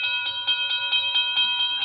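A train passing a sleepy rural junction in a radio drama, heard as steady, pulsing, tonal rail noise that stays loud and even through the short stretch.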